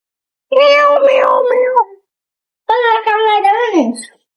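A voice imitates a cat's meow with two long, loud, drawn-out calls heard up close, separated by a short pause, the second ending in a falling pitch.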